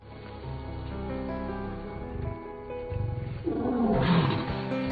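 A lion in a film gives a deep, growling roar that builds toward the end, swelling louder over a low background.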